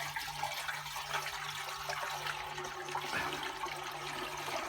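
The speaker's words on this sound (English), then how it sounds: "I'm going to pour this whole 5 litres in here now, just to swill the tank out" Five litres of water pouring into a rusty fuel tank to rinse it out, a steady continuous splashing, sloshing rush close by that holds at an even level throughout, with a low hum underneath.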